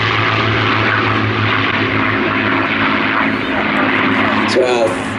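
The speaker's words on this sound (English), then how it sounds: "So our three ship of P-51s flying past as we now see these two Buchons rolling down the runway." Three P-51 Mustang propeller aircraft flying past, a loud continuous engine drone with a steady low hum, while a voice talks over it.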